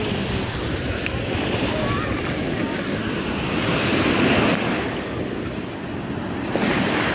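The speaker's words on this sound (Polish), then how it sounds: "Ale fale." Sea waves surge and wash continuously near a ferry, a loud, broad roar mixed with wind buffeting the microphone, with faint voices in the background.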